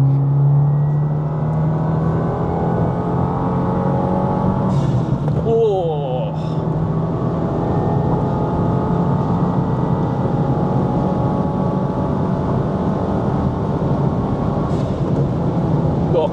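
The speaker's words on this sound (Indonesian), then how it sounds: "Nah, sekarang kita coba lagi akselerasi." A Subaru WRX with manual transmission accelerates hard, its engine note climbing steadily over a strong road and wind roar, heard from inside the cabin with a brief gear-change blip partway through.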